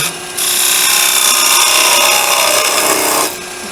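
A gouge cuts a small bevel on a Christmas tree ornament spinning on a wood lathe, giving a loud, close, steady hiss of scraping wood for about three seconds before easing off.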